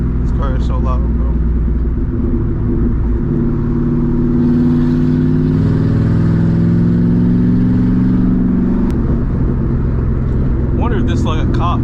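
Straight-piped 2007 Mustang GT with a loud V8, droning and revving steadily in the cabin with the windows partly down, with someone talking over it.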